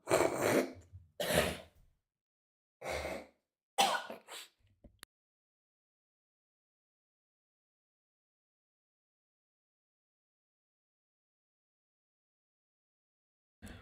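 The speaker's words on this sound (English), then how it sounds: "Clear my throat." A man clears his throat several times in short, close bursts over a few seconds, followed by long silence.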